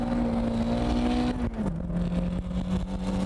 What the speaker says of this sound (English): I'm literally flooring it the entire way.